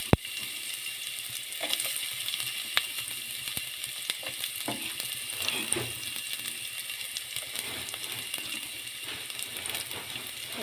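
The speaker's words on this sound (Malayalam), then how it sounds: "വെളുത്തുള്ളി ഇട്ട് കൊടുക്കാം. പിന്നെ നമ്മുടെ ചെറിയുള്ളി കഴിഞ്ഞിട്ടതും ഇട്ട് കൊടുക്കാം." Garlic and shallots fry in a hot pan, a continuous crackling sizzle punctuated by scattered scraping stirs and light clicks, close and fairly quiet with no talking.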